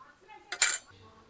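Peeled garlic cloves drop into a dish with one brief, bright clatter, close and crisp against an otherwise quiet kitchen background.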